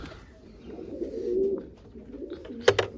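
Low, murmuring pigeon coos roll on steadily, followed near the end by a sharp knock or clatter.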